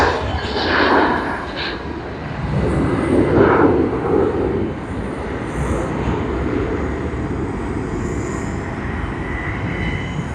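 Etihad Airbus A350-1000 jet at Sydney Airport, a moderate steady engine rumble and hiss in the distance, with brief voices and faint high tones over it.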